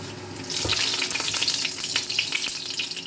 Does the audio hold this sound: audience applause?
no